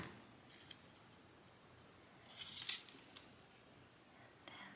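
Scissors cut through a folded paper banner flag, giving a few soft, close snips and crisp paper rustles against a quiet background, with no talking.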